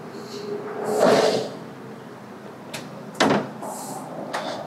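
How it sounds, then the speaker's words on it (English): Doors of a 1959 Taylor-Dunn Trident R electric vehicle with a fiberglass roof open and close, giving several close clunks and latch clicks over a quiet background. "But the doors open and close just like they should."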